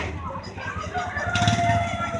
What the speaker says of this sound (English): Got all kinds of chickens and ducks,